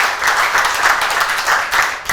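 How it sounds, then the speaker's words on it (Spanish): A church congregation applauds, a dense, steady wash of many hands clapping together at close range, holding roughly level throughout with a slight dip near the end. "Denle un aplauso a nuestro Señor Todopoderoso."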